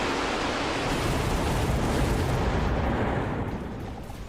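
Missiles explode in a strategy video game, a heavy rumbling blast with a dense roar of noise that swells, holds, and then fades out over several seconds.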